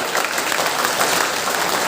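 Loud, dense applause from a large audience at a Hindu religious discourse, a continuous roar of many hands clapping at once with no speech over it.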